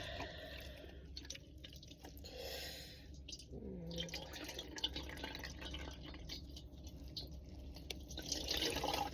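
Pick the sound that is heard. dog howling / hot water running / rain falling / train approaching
hot water running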